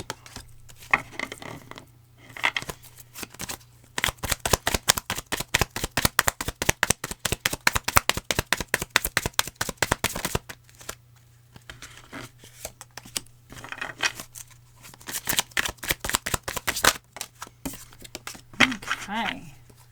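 Tarot cards handled and shuffled close by, a long run of rapid crisp riffling flutters with shorter bursts of card handling before and after, with no talking.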